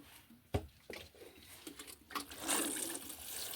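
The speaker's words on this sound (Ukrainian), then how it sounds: "Змиваємо з неї грунт і проливаємо водичку." Water poured from a container onto a freshly planted hydrangea in garden soil, rinsing soil off the bush; irregular splashes and patter that build into a steady close pour toward the end, with no talk.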